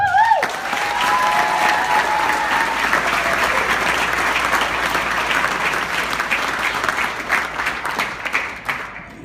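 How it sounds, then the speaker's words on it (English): Wedding guests at a best man speech break into sustained applause, a dense steady wash of many hands clapping that carries on loudly for the whole stretch, with a brief cheer or voice rising at the start. "Truly, give her a round of applause"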